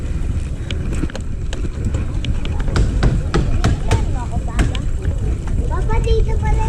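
Steady wind rushes and buffets a microphone outdoors on a hill in Binangonan, Rizal, a low roaring noise with intermittent gusts and faint knocks throughout.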